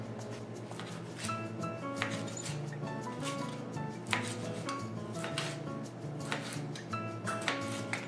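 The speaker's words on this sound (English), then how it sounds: "slice your chorizo" Chorizo being sliced on a cutting board for Portuguese chorizo bread: a steady series of knife taps and board knocks, moderately close, over faint background music.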